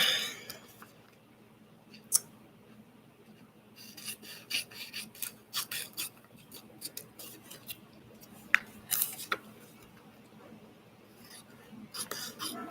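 Scissors snip through pieces of magazine paper for a glue book, a string of soft close crisp cuts and rustles, quiet and irregular, with faint murmuring at times.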